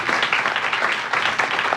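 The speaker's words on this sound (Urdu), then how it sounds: "خداوند کے لیے زوردار تالیاں" A church congregation gives a short burst of loud, dense clapping, continuous throughout without speech over it.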